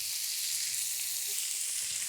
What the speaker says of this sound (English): Steak goes on first, and listen to this sizzle.